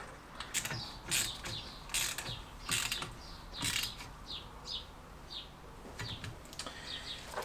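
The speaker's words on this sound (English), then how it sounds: "We then are going to put our nuts back on the back, our 13 nuts." Ratchet tightening 13 mm nuts on the front drum brake of a classic Fiat 500, heard close up as repeated rapid clicking bursts in an uneven rhythm, separated by short pauses, with no talking.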